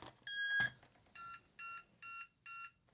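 An E-flite UMX Viper 30mm jet chirps electronically as its battery is plugged in: one longer rising beep, then four short, evenly spaced tones, close and clear against near silence.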